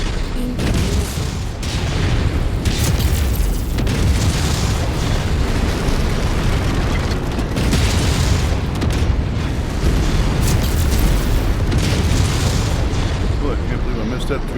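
Video game missile explosions, booming and continuous, with dense bursts and rumbling blasts filling the scene at loud volume, while a voice talks over the barrage.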